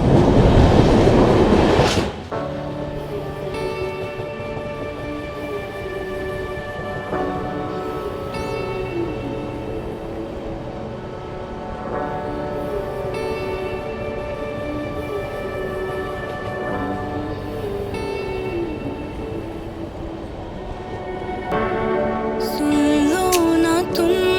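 The AP Express, an Indian passenger train hauled by a WAP-7 electric locomotive, runs on a ghat section on the Delhi to Nagpur route. A brief loud burst opens onto a steady, close rolling rumble with humming tones and rail clatter, swelling again near the end, with no talk.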